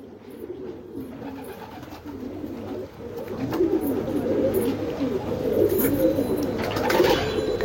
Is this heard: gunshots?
no